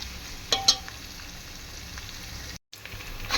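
Onions frying in a pan for a drumstick vegetable biryani, cooking until brown; a steady, soft sizzle with a couple of brief stirring clinks near the start, close and without talk.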